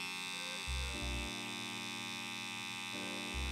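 Electric hair clippers hum steadily at close range, with a few brief louder surges in pitch and level as the blade is adjusted partway through; no one speaks.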